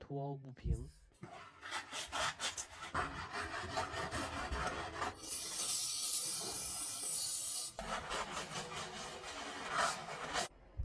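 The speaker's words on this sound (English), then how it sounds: "X3M caliper needs cleaning too before install." Close scrubbing and rubbing while a BMW X3M brake caliper is cleaned of gunk on its pistons and pad slide surfaces, rasping strokes in bursts with a brief hiss, and a voice talking over parts of it.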